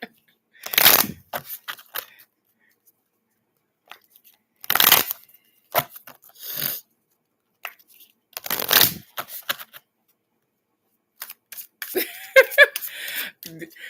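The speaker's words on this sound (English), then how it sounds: "I'm shuffling your love card" Tarot cards shuffled in short riffling bursts, close and crisp, separated by near-silent pauses, with a faint voice near the end.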